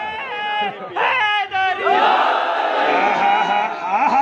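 At a religious sermon, a crowd raises a loud chanted slogan in unison, the voices swelling into a sustained roar after a single voice leads, with overlapping shouts continuing to the end.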